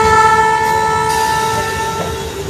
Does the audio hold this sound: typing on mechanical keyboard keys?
no